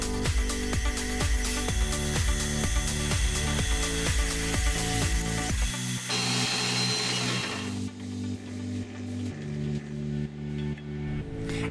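Drilling of holes in a finger plate clamping tool in a home machine shop, with a steady machine whine and rhythmic cutting pulses, then a shift to a lower tone and repeated slow surges, close and loud.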